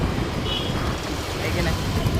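A car being driven fast, with a steady broadband road and engine rumble heard from inside and continuing under people talking.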